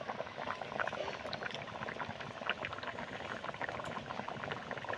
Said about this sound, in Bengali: এবারে এগুলোকে আমি বেলার মধ্যে ঢেলে নিই।